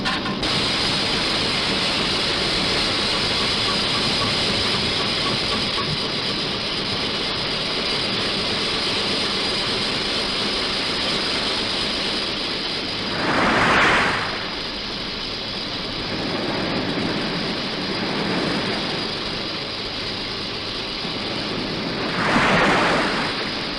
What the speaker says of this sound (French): Moteur réglé à 290 tours.